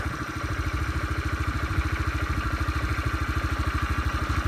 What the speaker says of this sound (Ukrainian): Ви послухайте, як працює двигунчик.